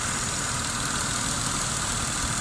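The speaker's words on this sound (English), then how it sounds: "This fan's spinning around a bit fast." A BMW Z3 engine idles with its cooling fan spinning fast due to a faulty fan coupling, producing a steady, loud, close whirring roar with an even rumbling tone and no talking.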